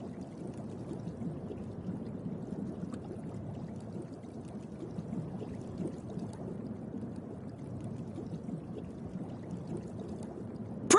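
A water jet attack in Genshin Impact's Fontaine region makes a continuous soft gushing, pouring rush that runs evenly throughout, ending on a brief bright splash.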